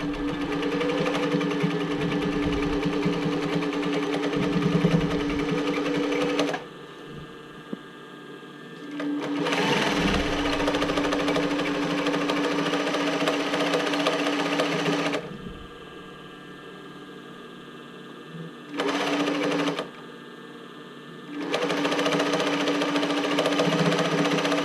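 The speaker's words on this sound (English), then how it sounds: "I'm going to change to the zigzag stitch" A domestic sewing machine runs a zigzag stitch along the folded band of a swim top, whirring in several long close bursts broken by short pauses, with no voices.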